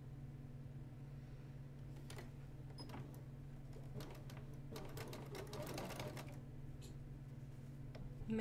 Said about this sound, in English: I'm going to sew down those lines that we just drew.